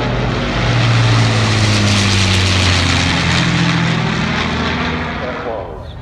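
Avro Lancaster four-engine propeller bomber flying past over a steam rally in Oxfordshire, a loud sustained droning roar that swells and then fades slowly, with a commentator speaking over it.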